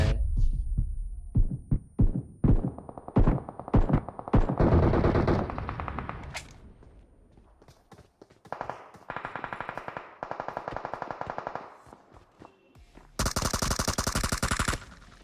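AKM assault rifle fire in the mobile battle royale game PUBG Mobile: loud, sharp bursts of rapid shots in quick clusters, with pauses between volleys, a sustained stretch of fire and a final dense burst, no talk.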